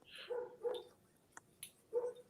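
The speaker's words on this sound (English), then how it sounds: "I hear dogs in the background." Several dogs bark in the background of a casual panel conversation, with short yaps and a whimper in a few scattered bursts, faint and distant.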